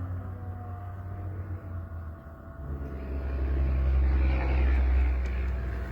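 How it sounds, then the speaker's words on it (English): A truck passes outside a building with a low, rumbling engine drone that swells to its loudest near the end, heard at a distance through walls. "That was a truck outside."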